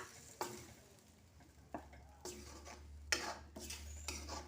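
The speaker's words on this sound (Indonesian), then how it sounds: "Kita tumis sebentar ikannya dengan bumbu ya teman-teman, sampai ikannya berubah warna" Tongkol fish stirred with spice paste in a hot pan, soft frying sizzle under repeated scraping stirs at a steady, close-up pace, with no talking.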